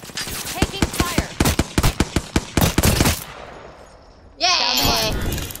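Rapid bursts of gunfire in the battle royale game Apex Legends, a quick run of loud close shots lasting about three seconds, then a brief lull before other game sounds rise.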